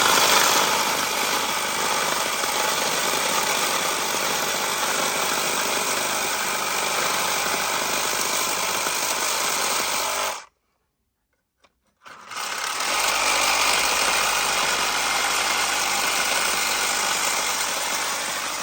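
A reciprocating saw fitted with a carbide blade cuts the corner off a cement block, a loud, steady buzzing drone that stops abruptly for about two seconds, then resumes just as harsh.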